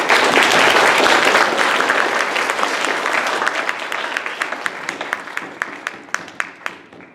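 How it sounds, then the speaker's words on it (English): Audience applause at a school Earth Week climate solutions presentation in Maine, a dense roomful of clapping that slowly thins out into scattered individual claps toward the end. "Can we have a round of applause for"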